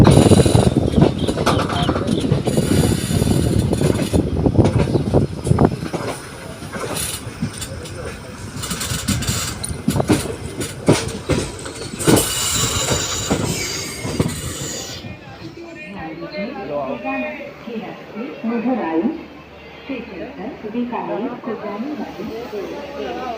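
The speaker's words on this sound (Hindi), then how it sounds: "इस तरफ से ट्रेन आएगी, फिर रानीखेत एक्सप्रेस में इसके कुछ डब्बे जुड़ते हैं" Indian railway train arriving at a station where Ranikhet Express coaches are coupled on: steady rumbling wheel noise and hissing from rolling coaches, close and loud, fading into quieter platform ambience in the final seconds.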